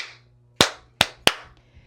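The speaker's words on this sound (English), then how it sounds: "Give yourself a hand clap." Three sharp hand claps from children in a pre-K lesson, spaced unevenly over about a second, each loud and close with a quick decay, and no talking.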